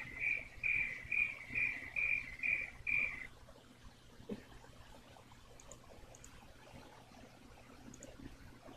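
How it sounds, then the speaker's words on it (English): A cricket chirps at night in a steady rhythmic series of about ten bright pulses that then stops, leaving quiet ambient background with faint distant sounds. "All I heard was cricket."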